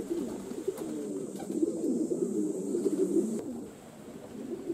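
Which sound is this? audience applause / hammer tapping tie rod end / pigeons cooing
pigeons cooing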